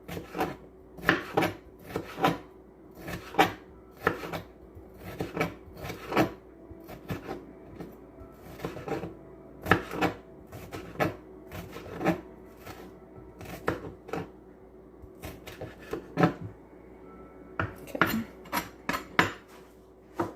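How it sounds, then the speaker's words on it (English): A knife chops sweet pepper into small pieces on a board, giving a quick run of close, sharp taps at an uneven pace; no voices. "Now I'm just cutting a small piece of sweet pepper, not too much."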